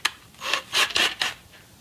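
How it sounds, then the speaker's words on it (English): Drilling into wood with a tapered drill bit, a series of four or five close, raspy grinding bursts of roughly a quarter second each, fairly loud and heard alone. "With the tapered drill bit, it tends to stay inside a little more, so you might want to drill as a two-step."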